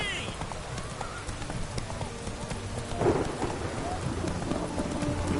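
A horse gallops in The Witcher 3 with rhythmic hoofbeats, mixed with rain, rumbling and other game sounds, while voices talk over it.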